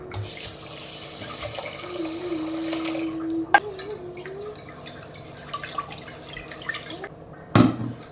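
Tap water runs into a kitchen sink as mushrooms are washed, a soft steady flow with light splashing and two brief clattering bumps, heard alone at low level.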